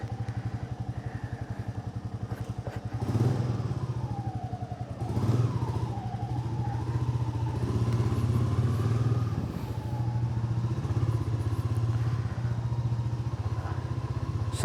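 A motorcycle runs at a steady idle-like rumble, rising briefly in a couple of revs before settling again, close and continuous with no talking.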